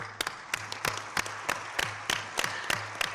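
Audience applause at a ministerial conference, heard as sparse, scattered claps with sharp separate hits over a faint room hum rather than a full ovation.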